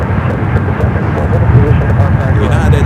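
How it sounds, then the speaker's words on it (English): A United Boeing 757 bound for Newark takes off from runway 28 left at San Francisco International, its engines a steady, loud low roar that holds throughout with a faint rising rumble. "United is 757 heading to Newark. Now rolling down to 28 left."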